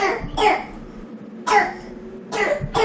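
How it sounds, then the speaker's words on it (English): A child coughs in several short, harsh bursts, spaced about a second apart, close and clear with no talking. "you didn't have this cough this morning"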